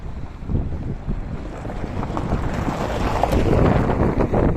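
Gusting wind buffets the microphone in a continuous rushing roar at an outdoor vehicle market in Shymkent, with light patter suggesting rain, growing slightly louder over the seconds.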